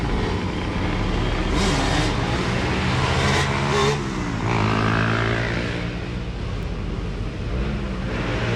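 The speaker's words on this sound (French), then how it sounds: "Elle est énorme sa moto, la meuf." A large motorcycle engine rumbles and revs steadily on a city street in Medellín, loud and close, with traffic noise blending in throughout.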